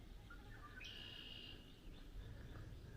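Birds calling near a swampy area along a park trail in Toccoa, Georgia, with a sustained high chirping call and a few shorter notes over a steady low outdoor ambience, moderately distant.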